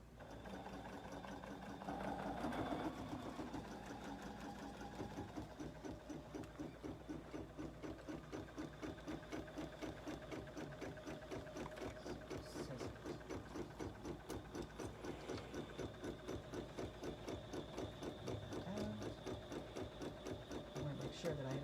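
A Bernina embroidery machine stitches a garden flag, its needle running in a steady, fast mechanical rhythm at close range throughout, with a faint hum underneath.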